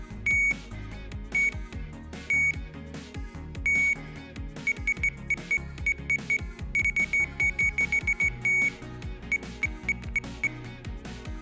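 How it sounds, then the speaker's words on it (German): A multimeter's short continuity beeps sound as a rotary encoder is turned, coming in irregular bursts of quick chirps that speed into rapid runs, close and clear over a steady low hum. "jedes Mal, wenn diese beiden Leitungen elektrisch verbunden werden, piepst das Multimeter"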